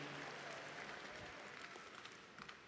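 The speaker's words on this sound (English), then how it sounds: "I want to give Miss Alyssa Prindle a round of applause." Audience applause at a high school graduation ceremony, with a large crowd clapping steadily in dense, continuous patter that fades slightly toward the end. No voices stand out.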